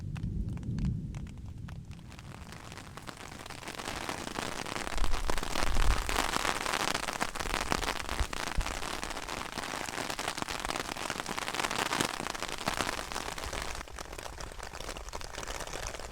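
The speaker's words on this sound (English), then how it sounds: "Bit of rain on the tarp, one of the good sounds in life." Steady rain drums on a camping tarp in the bush during a thunderstorm, a dense, continuous patter close overhead with a brief low rumble partway through, no voices.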